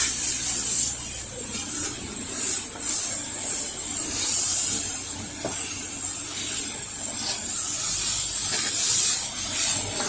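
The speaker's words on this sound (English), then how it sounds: "We're going to give it a healthy dose of house wash mix." A pressure washer sprays a house with a 1% house wash mix, giving a steady close hiss of spray with faint pump rumble beneath and no talk.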